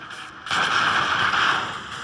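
A sudden loud blast booms and rumbles for over a second before fading, a single heavy video game explosion with no voices.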